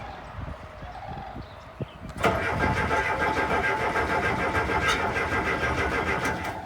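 A Case 580C loader that has sat for five years cranks briefly, then its engine catches and settles into a loud, steady idle that fills the rest of the clip.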